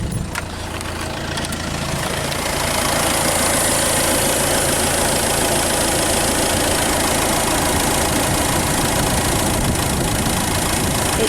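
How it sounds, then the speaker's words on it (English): A 2005 Romahome HyLo camper's 2-litre HDi diesel engine idles with a steady, slightly knocking rumble, close and continuous, after a brief clunk at the start. "the 2-litre HDI engine, which is nice and smooth"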